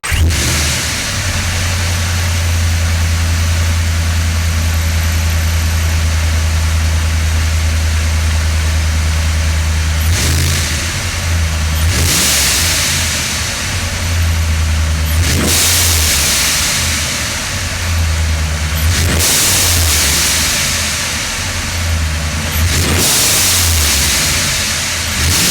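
A Procharger-supercharged car engine with a Tial blow-off valve idles with a low rumble, then revs hard several times, each rev ending in a sharp, loud hiss of released air.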